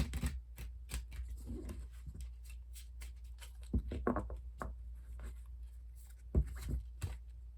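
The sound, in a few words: shuffling tarot cards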